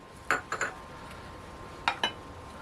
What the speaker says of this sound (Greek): Ανακατεύω λίγο και πάμε σιγά σιγά να ενσωματώσουμε